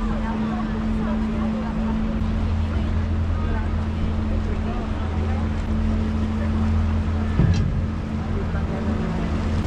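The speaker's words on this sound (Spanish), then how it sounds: "Ese es el barco de los bomberos, la lancha de los bomberos." A fire brigade motorboat runs on the Grand Canal in Venice, its engine giving a steady low drone under a busy wash of water and ambient noise, heard from nearby.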